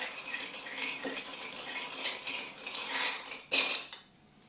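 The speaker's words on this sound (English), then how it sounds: "Then we're gonna stir a bit." Metal spoon stirring a dark and stormy cocktail in a glass, a steady run of light clinks and rattles with one sharper clink near the end, close and fairly quiet.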